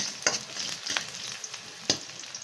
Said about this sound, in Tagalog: igigisa muna natin ang ating sibuyas at saka bawang